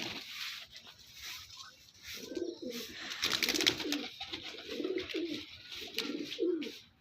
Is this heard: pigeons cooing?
yes